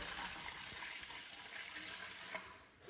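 Alkaline degreaser being poured into a bucket of water for a car wash, a steady close liquid splash and gurgle that tapers off near the end.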